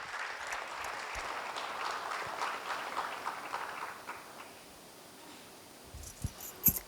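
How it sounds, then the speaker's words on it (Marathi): A stage audience claps loudly for a group of singers at a music event, a dense even applause that tapers off after about four seconds into a few scattered claps and small knocks. "एकदा या सगळ्यांसाठी सुद्धा जोरदार टाळ्या"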